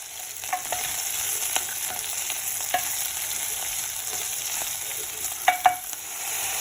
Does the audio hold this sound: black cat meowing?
no